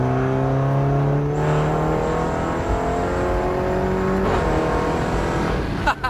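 A BMW F30 with an automatic transmission roars as it accelerates, engine pitch climbing steadily through gears with a brief shift near the end, loud and close throughout.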